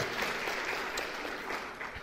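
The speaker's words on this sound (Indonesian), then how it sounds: "ya boleh beri tepuk tangan silahkan" A church congregation applauds together, a steady dense patter of clapping that fills the room with no voices over it.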